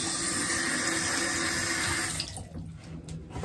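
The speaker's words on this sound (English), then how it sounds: "Now I'm gonna put some water, a little bit of warm water on my face" Warm water runs from a sink tap in a steady rushing stream as it is splashed onto a face, then cuts off after about two seconds, leaving soft drips and small splashes.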